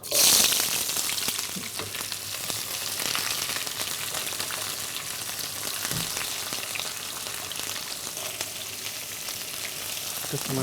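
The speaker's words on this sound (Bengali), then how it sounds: "পেঁয়াজটাকে এখন কি ব্রাউন করে ভেজে নিব" Onions frying in hot oil alongside dried red chillies and garam masala, a dense, even sizzle close by that holds steady throughout with a louder start, no voices.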